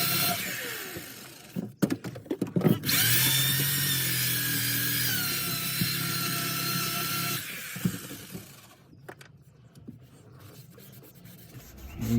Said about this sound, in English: Going to hit it with the wire wheel one more time.